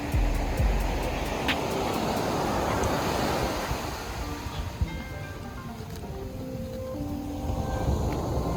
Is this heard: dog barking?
no